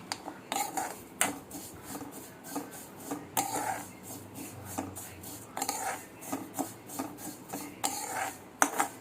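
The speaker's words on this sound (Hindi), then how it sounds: "तो यहाँ पे मैं भून रही हूँ जवे, थोड़ा सा घी डाल दिया है।" Vermicelli being roasted in a little ghee in a pan at home gives steady scraping and clinking of a utensil against the metal, with repeated rhythmic strokes at moderate level.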